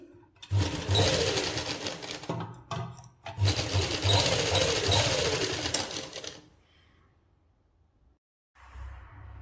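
A sewing machine runs in two long close bursts stitching the seams of a toddler's winter pyjama suit, with a brief pause between them and a quieter short run at the end.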